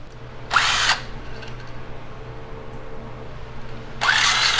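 Power drill spinning out small 8mm bolts from the magnesium engine cover of a 2024 Yamaha YFZ450R quad, two loud whirring bursts separated by a quiet gap with faint background hum.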